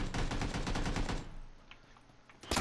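Rapid automatic gunfire in a video game, a loud burst of closely spaced shots for over a second, then quieter scattered shots and a final sharp shot.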